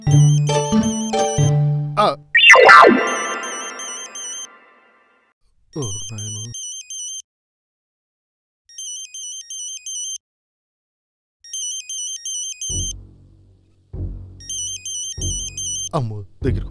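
A telephone rings in a house during a power cut, bursts of electronic ringtone repeating at steady intervals across the clip, with voices talking loudly at the start and again near the end.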